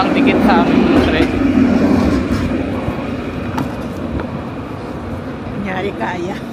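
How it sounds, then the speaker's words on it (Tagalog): A train passes very close by in Dublin, a loud rumbling rush of wheels and carriages that is strongest at first and then eases into a steady roll, with people talking over it. "sobrang dikit sa amin yung tren."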